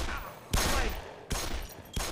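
Bursts of rapid gunfire erupt between soldiers in Black Mesa, three loud volleys in a couple of seconds over a dense, noisy game backdrop.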